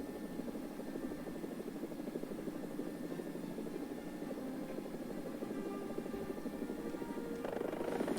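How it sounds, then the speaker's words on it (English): A medium-weight scout helicopter in the combat video game War Thunder gives off a steady, continuous rotor and engine drone, heard close and unbroken with no talking. "It's sort of a relative medium-weight scout helicopter"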